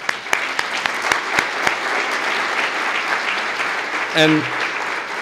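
Audience applause for staff standing up at an urban parks lecture, a broad steady wash of clapping with a few sharp nearby claps, a voice briefly speaking over it near the end.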